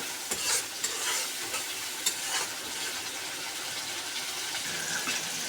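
Spice paste with chilli and turmeric powder sizzling in oil in a pan while being stirred, a continuous hiss and crackle punctuated by soft scraping strokes of the spoon.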